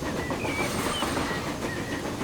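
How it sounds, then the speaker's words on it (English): A train arrives on an elevated railway in the Transport Fever 2 video game, a steady rolling rumble with a faint rhythmic clatter and thin sustained squeals, continuous and fairly loud throughout with no talking. "just as another train arrives"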